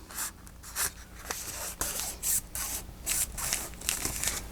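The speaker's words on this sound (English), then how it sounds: "We have just folded in half" Paper is folded in half while making ephemera holders, giving soft, close rustling and creasing swipes that come in short bursts with brief pauses between them.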